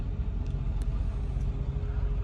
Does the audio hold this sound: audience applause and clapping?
no